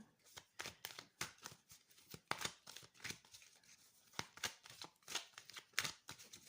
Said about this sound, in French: On va tirer les cartes et on va lire le message du dos